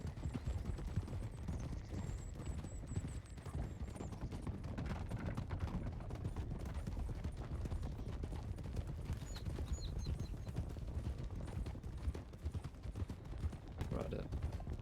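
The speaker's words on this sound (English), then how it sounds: "Picking it up to a canter." A horse canters in a video game, steady rhythmic hoofbeats running throughout at moderate volume, with faint game effects and a player's voice intermittently over the top.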